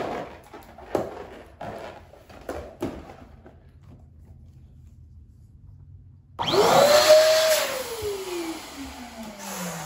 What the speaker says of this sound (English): It's an electric balloon pump.